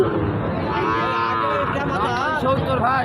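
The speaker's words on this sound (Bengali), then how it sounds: "সামনে কিন্তু প্রচুর গরু জোড়ায় জোড়ায় গরু আছে" Cows at a cattle market give several loud, drawn-out moos close by, with voices and crowd noise from the market around them.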